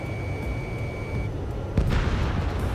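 In Ace Combat 7, a missile strikes an anti-air radar vehicle with a single abrupt explosive crack partway through. A steady jet-engine roar and a thin warning tone that stops earlier continue beneath, and a hissing rumble trails after the blast.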